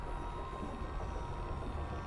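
Steady low rumble of a train carriage rolling along in the horror adventure game The Charnel House Trilogy, a continuous dense drone with no gaps and no talking.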